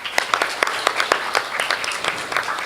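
An audience at a public lecture applauds the moderators in a short burst of scattered, uneven hand claps from a modest crowd, close and fairly loud.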